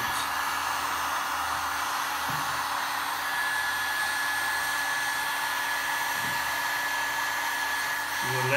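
Heat gun blows a steady, loud rushing stream of air over poured resin art, continuous and close throughout with only slight shifts in tone.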